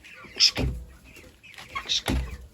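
Backyard chickens kept alongside ducks give two short bursts of clucking and squawking as they scurry off, close by with quiet pauses between.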